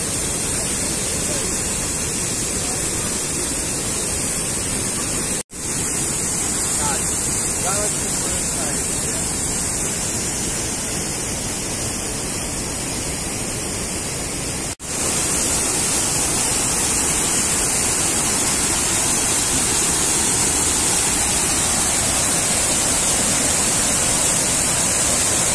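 Steady, loud roar of a waterfall in the Carpathian Mountains, a constant broad hiss with no breaks, close and enveloping.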